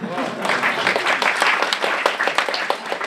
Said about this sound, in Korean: 박수 쳐야 돼요.